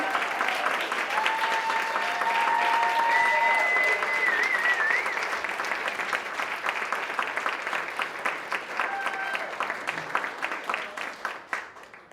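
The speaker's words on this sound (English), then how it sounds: "I'd love to get a round of applause for all of our storytellers" Audience applause fills a storytelling event about parenthood, steady and dense clapping from a sizable crowd that gradually thins toward the end, with faint whistles or cheers over it.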